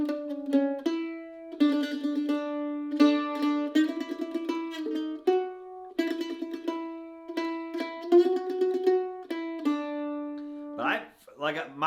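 A mandolin plays the hymn The Old Rugged Cross with down-up picking, a clear, close run of bright plucked notes in steady rhythm, some tremolo-like repeated notes, alone for most of the passage.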